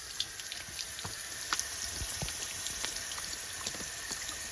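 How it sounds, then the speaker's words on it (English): Water sprays steadily across a vegetable garden bed during spring watering, a continuous hiss and patter of droplets with a few louder splashes, nearby and alone. "But I'm going to water quickly."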